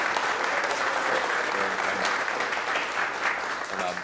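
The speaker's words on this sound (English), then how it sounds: "I'm having all this applause in hopes of passing this resolution." Steady applause from a city council meeting audience in Oklahoma City, dense and sustained for the whole stretch at an even, fairly loud level, with no speech over it.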